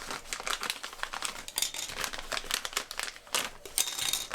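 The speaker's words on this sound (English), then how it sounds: "Just going to cut them both out here." Two plastic model kit pieces for a Back to the Future DeLorean being cut free from their sprue, a quiet close series of crisp clicking snips and crinkly rustling, no voices.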